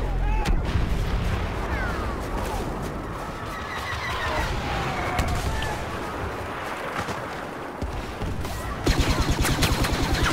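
Machine gun fire in the Star Wars shooter Battlefront 3 beta crackles in rapid bursts amid booming explosions and battle noise, loud and dense, with a burst of fast shots at the end.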